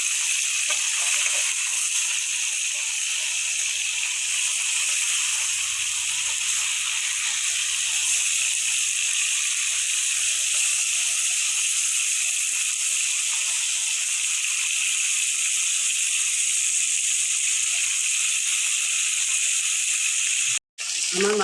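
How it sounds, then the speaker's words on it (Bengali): Tilapia pieces fry in oil one at a time, making a steady, bright hiss that runs unbroken for about twenty seconds before a brief cut near the end. "এইভাবে মাছগুলি এক এক পিস করে ভেজে নেব।"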